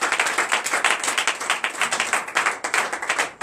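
A congregation claps in acclamation during a morning prayer service in Comè, Benin: steady, fairly loud rhythmic hand clapping from many people, sustained throughout.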